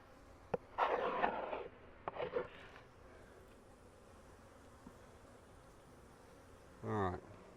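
Honeybees buzz around an open ten-frame deep hive box, soft and steady, with a few louder close passes near the start and one brief near buzz toward the end.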